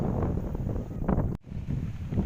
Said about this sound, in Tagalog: sobrang lakas po ng hangin dito ngayon.